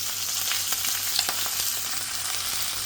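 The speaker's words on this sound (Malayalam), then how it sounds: "2 മിനിറ്റ് നമുക്കൊന്ന് ഇളക്കി കൊടുക്കാമേ." Cumin seeds, curry leaves, ginger and green chili fry in hot oil for masala potato bonda, giving a steady, dense sizzle with light clicks of stirring throughout, close up and without talk.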